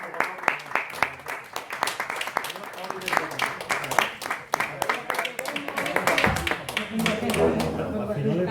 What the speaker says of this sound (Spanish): nosotros vamos a darle un aplauso